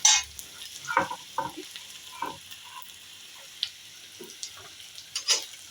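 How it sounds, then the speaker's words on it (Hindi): Onion, garlic and ginger frying in a pan for a green pea nimona, with soft intermittent sizzles and stirring scrapes, close but fairly quiet, separated by short pauses. "बिल्कुल लाल नहीं करना है लहसुन प्याज को, थोड़ा सा होने के थोड़ा अदरक लहसुन जब हो जाए उसी के बीच पे प्याज डाल देंगे तो दोनों साथ साथ भुन"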